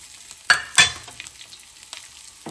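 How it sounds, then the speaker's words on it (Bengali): Whole cumin, garam masala, bay leaves and dried chillies drop into a hot pan of oil for a goat meat curry. Two quick sharp hits give way to a soft, steady sizzle, with no talking. "এখানে একটু গোটা জিরা আছে আর সমস্ত রকমের গরম মশলা, তেজপাতা, কয়েকটা আমার গাছের শুকনো মরিচ দিয়ে দিচ্ছি"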